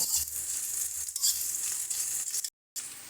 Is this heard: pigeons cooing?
no